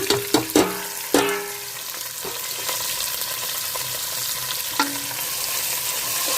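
Onion, green chili, mint and coriander fry in oil and ghee with spices for basmati pulao: a few clattering stirs at the start, then a steady close sizzle with an occasional scrape.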